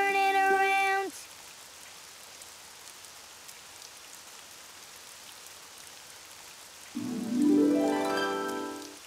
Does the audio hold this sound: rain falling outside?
yes